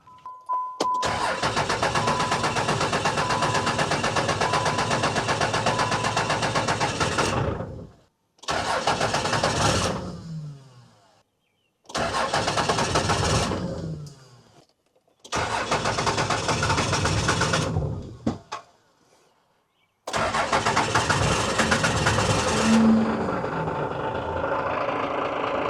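A 30-year-old diesel truck engine is cranked and started repeatedly, with loud bursts of running broken by short silences, before catching and settling into a steady idle close by.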